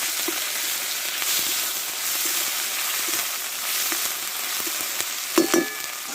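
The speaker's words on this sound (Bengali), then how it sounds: "এখানে আমি এক চামচ মতো আদা রসুন বাটা দিয়ে দেবো আর দেবো একটা টমেটো কুচানো এটা ভালো করে কষে নেব" Ginger-garlic paste and chopped tomato fry with browned onion in a pan, making a continuous close sizzle with faint stirring scrapes and a couple of brief clinks near the end. No talking.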